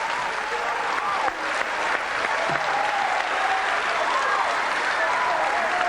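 Crowd cheering and applauding at a men's volleyball national club final in Porirua, a dense continuous wash of clapping and shouts filling the hall, steady and loud with no break.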